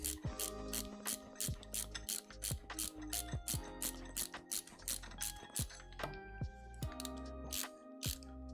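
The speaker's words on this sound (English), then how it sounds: "I'm screwing into plastic here." Screws being driven into plastic parts while assembling a 3D chocolate printer, giving repeated ratcheting clicks and mechanical whirring bursts in quick succession, close and fairly loud, with no talking.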